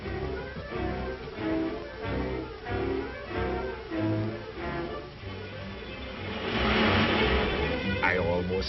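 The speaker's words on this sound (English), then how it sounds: "There's a car coming." A vintage car's engine drones on a road as it approaches, rising in loudness toward the end over a light music score, with a narrator talking through most of it.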